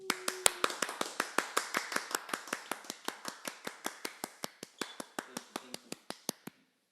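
Hands clap in a steady, fast run of about thirty-five crisp claps, close and clear against near silence, with the pace easing slightly toward the end.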